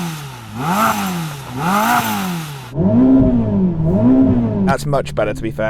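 Ferrari SF90 engine revving in repeated rising and falling swells, loud and close, with people talking over the last part.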